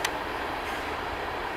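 A BNSF freight train passes at a grade crossing in Orangeburg, New York, giving a steady, dense rumble and hiss of rolling cars at close range with a brief sharp clank at the start.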